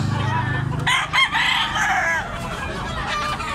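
A young rooster of a Cebu gamefowl bloodline crows up close, a loud strained call with clucking around it, heard over background noise.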